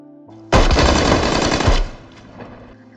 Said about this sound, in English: 24 guns were pointed in his direction. Fire!